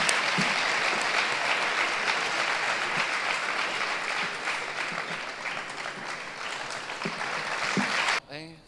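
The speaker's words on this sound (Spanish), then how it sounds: "Un aplauso para ella." An audience at a Cruz Roja comedy night gives a long, even round of applause, a dense wash of clapping that holds steady before cutting off abruptly near the end.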